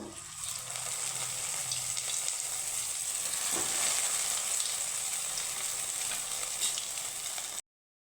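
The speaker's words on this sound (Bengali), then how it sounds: "আর আমি দুটো এভাবে ভেজে নেব" Flour dough balls fry in hot oil with a steady, close hiss and bubbling sizzle that runs unbroken, then cuts off abruptly at the end.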